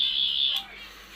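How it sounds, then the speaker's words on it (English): A limited edition 14th Doctor sonic screwdriver toy gives a steady, high electronic beep lasting about half a second. It is fairly loud and close, then cuts off into a faint hum. "it will beep twice, and you get the green setting"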